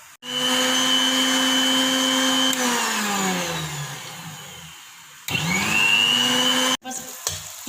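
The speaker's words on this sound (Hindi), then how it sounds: "पालक को मैंने ब्लेंडर में मोटा मोटा ब्लेंड कर लिया है" Blender coarsely grinding spinach with a little water, a loud steady motor whine that dips and slows midway, then restarts in a sharp burst before cutting off near the end.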